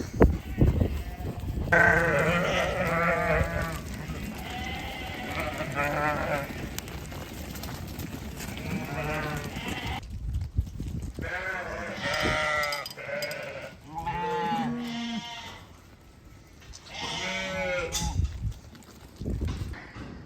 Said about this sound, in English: We've got a lame ewe.